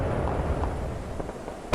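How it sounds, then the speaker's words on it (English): Video game loot crate bursting open, a dense, roaring explosive rumble that fills the whole moment and ends in a sharp pop. "Alright, we're gonna open up the loot crate."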